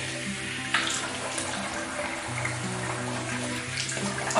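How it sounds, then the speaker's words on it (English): Running tap water rinsing shaving lather off a face after a wet shave: a steady, close rush of water with splashes and shifting flow throughout. "Right, we'll rinse that off."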